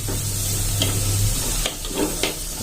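Onions fry in hot oil in a pan for a Kerala-style drumstick curry, with a steady loud sizzle and occasional scraping strokes of a spoon stirring them, close up and without talk.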